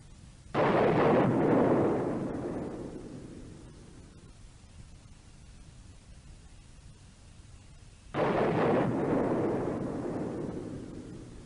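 Two sharp, loud explosive bursts from a fighter jet's ejection system blowing the canopy off, each one decaying slowly; the second comes about seven seconds after the first, with no talking.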